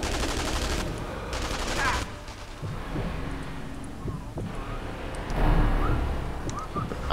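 Enemy gunfire in Sniper Elite V2 on the Schoneberg Streets level, scattered shots and short rattling bursts over steady wind-like ambience, some near, some distant.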